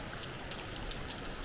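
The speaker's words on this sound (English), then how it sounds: "All that water trickling down there. It's creating like a rainstorm." Water trickling down Raven Cliff Falls in South Carolina, a steady dense patter like a downpour of rain that holds evenly throughout, close and continuous with no voices.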